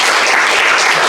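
A conference audience claps together, a dense, loud, continuous burst of applause with no voices over it.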